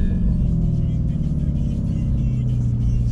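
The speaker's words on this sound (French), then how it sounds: "Je sais pas si vous entendez à l'accélération" A Lamborghini Urus accelerates from inside the cabin, a deep steady engine rumble with a gradually rising pitch throughout.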